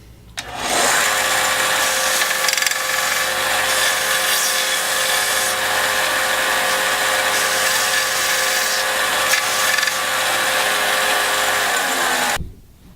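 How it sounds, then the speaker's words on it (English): A power sander rounds the edges of a cut core piece, running in one steady, loud, whirring stretch of about eleven seconds before cutting off. "I like to take it onto my sander and just round the edges"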